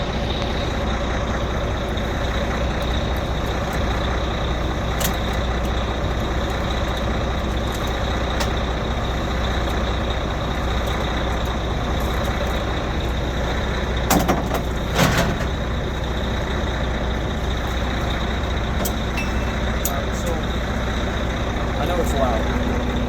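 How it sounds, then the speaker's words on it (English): An old truck engine runs loudly and steadily, a continuous low rumble with a few sharp hissing bursts partway through, and a voice talks over it. "It's loud. I bought this truck"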